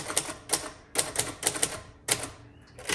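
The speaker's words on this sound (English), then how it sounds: "This is a fantastic typewriter with a solid keystroke." Crisp mechanical keystrokes from a 1958 Royal Futura 800 typewriter, typed in quick irregular bursts of several clacks with brief pauses between, close and clear with no talking.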